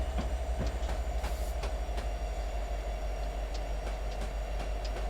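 Train cars roll steadily over the rails on Sherman Hill with a continuous low rumble and a regular clickety-clack of wheels over joints, close and sustained throughout, with no talking.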